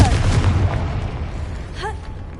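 Confringo blasting spell cast in a video game, a loud booming burst up front followed by a rumbling tail, with a brief whooshing sweep near the end.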